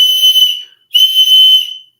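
A person imitates a loud whistle with two long, piercing shrill blasts separated by a brief gap, close and alone.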